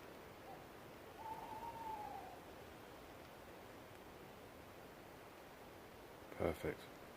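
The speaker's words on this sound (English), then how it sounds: "An owl." A single owl hoot comes from a distance in the woods, a faint, drawn-out call heard over a steady hiss of background noise. A brief louder knock or rustle follows near the end.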